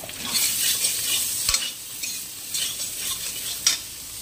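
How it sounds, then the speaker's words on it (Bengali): Potatoes and bori (lentil dumplings) frying in oil in a pan, a continuous hissing sizzle broken by a few sharp scrapes and clinks of a spatula, close and alone. "এই যে বড়ি আলু আছে একসঙ্গে ভেজে নেব"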